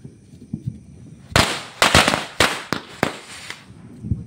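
Diwali firecrackers go off outdoors in a quick cluster of sharp, loud bangs and pops, several in close succession, after a quieter stretch of low background noise.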